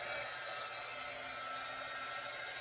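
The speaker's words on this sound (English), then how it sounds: "I'm going to take my little dryer because it's wet chalk paste" Small hair dryer drying wet chalk paste on a mason jar cutout craft, giving a steady, close, airy whoosh with a constant hum that runs unbroken throughout.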